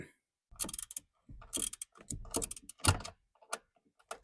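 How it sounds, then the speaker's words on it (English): A small socket ratchet tightens the 12-volt battery hold-down on a Toyota Prius C, giving bursts of rapid clicking pawl ratchets with short pauses between strokes, close and clear, no speech. "Let me get the socket and ratchet and we'll get all that tightened up."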